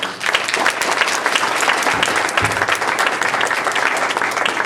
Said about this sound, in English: let's do a round of applause for all of our panelists